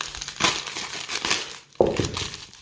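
Crinkly plastic packaging gets sliced open with a small Opinel pocket knife, loud close crackling and crumpling in two bursts separated by a brief pause, no speech.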